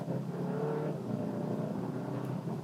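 A 2021 Hyundai Sonata N-Line sedan accelerating hard from a rolling start, a steady rising engine drone heard from inside the cabin, continuous and moderately loud, no talk.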